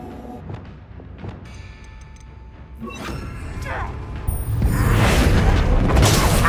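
Bombarda explosion spell cast in a goblin mine in Hogwarts Legacy, a rumbling blast that swells into a loud, sustained roar of debris and noise, building over several seconds amid game effects.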